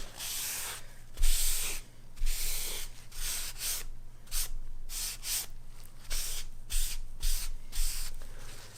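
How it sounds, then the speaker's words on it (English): A rag wipes excess red mahogany Danish oil off wood, repeated close rubbing strokes with a breathy, hissing texture in an uneven back-and-forth rhythm. "let's make sure we get the rest of that excess off"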